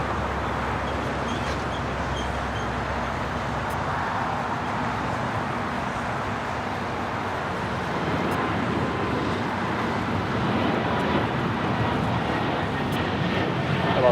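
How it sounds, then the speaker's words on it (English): An Embraer E195-E2 jet takes off at LAX, a broad, steady roar that grows slightly louder in the second half, heard from a distance without talk. "next takeoff"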